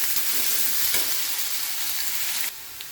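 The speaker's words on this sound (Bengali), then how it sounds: "এতে দিয়ে দিচ্ছি আমি যে আলুটা কেটে রেখেছিলাম, আলুটা আমি ভেজে নিচ্ছি।" Cut potatoes frying in oil as they are stirred, a strong continuous sizzle close by with a couple of faint utensil knocks and no talking.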